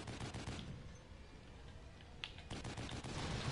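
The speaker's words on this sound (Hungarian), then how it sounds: "nekem kell golyószóróval leszedni a buszról" Sustained machine gun fire from The Evil Within, fired at enemies on a bus: dense, rapid bursts of gunshots that soften briefly mid-volley, then build again with sharp cracks, close and loud with no talk.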